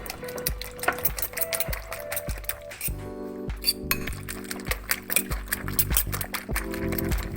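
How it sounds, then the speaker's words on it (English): Egg mixture with chopped parsley being mixed in a bowl, a utensil clinking against the sides in a steady rhythm of repeated close taps, with a soft sloshing underneath. "Now mix everything."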